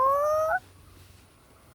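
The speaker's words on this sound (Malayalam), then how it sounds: "അവിടെ താറാവ്" Bird calls, likely a duck heard near a pond, give a loud harmonic quack-like cry lasting about half a second at the start, followed by quiet background.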